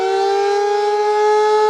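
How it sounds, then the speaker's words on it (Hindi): A civil defense air raid warning siren sounds during a mock drill, a loud, steady wailing tone holding without break and growing slightly stronger toward the end. "हवाई हमलों की वार्निंग देने वाले सायरन बजाए जाएंगे, जैसे इस वक्त बज भी, आप सुन भी पा रहे"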